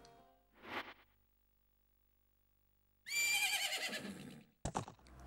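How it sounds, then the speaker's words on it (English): Epona the horse in the video game Majora's Mask gives two whinnies at Romani Ranch, a short one early, then a long, bright, shrill neigh, followed by a brief snort-like burst, clear and close. "Isn't that your horse?"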